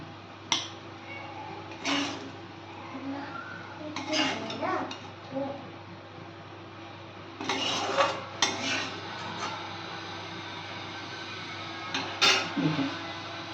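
A pot of pumpkin and bitter gourd curry lifted off a gas stove, with a few sharp metallic clinks and scrapes of the pot and utensils over a steady low kitchen hum.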